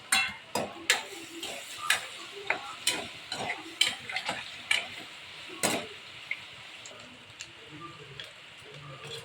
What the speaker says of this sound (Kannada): ಸೊ ಚೆನ್ನಾಗಿ ಎಗ್ನ ಫ್ರೈ ಮಾಡ್ಕೊತೀವಿ